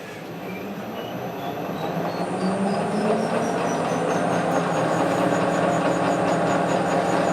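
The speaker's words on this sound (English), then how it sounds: "And then I'll back it out, reverse the lathe." A metal lathe running in reverse while building a Hemingway Kit spherical ball turner: a steady mechanical whir and rumble that grows gradually louder, with a faint high tone stepping upward through the run.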